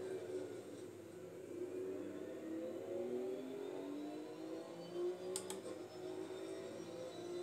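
Porsche race car engine in Assetto Corsa Competizione, a moderate revving drone rising and falling through gears, steady and fairly quiet, with a couple of brief clicks.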